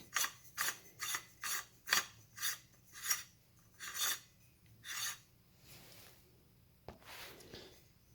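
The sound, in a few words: screwing in a finely threaded part of a gel blaster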